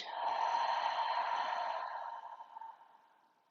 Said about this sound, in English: I really like using that open mouth exhale